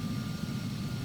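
Continuous airplane engine roar during an FSX flight simulator landing, a steady broadband drone with a faint whine, moderately loud with no voices.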